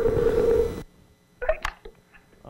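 A telephone ringback tone on an internet conference call sounds as one steady, moderately loud electronic tone for under a second, then cuts to near silence broken by a few faint clicks and rustles.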